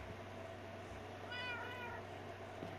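A cat gives a single short meow, faint and somewhat distant, over a low steady background hum.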